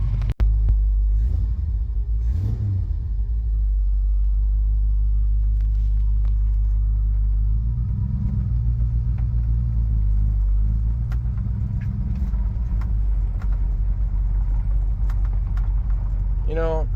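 A 1966 Dodge Coronet driving along a road, heard from inside as a loud continuous low engine rumble and road drone that swells and shifts through the ride, with a person talking over it.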